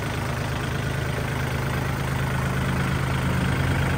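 A 2018 Kubota L4018DT farm tractor idles steadily nearby, a constant low diesel rumble with a faint hum over it, with no talk.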